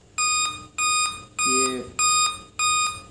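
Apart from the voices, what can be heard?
computer motherboard five-beep error code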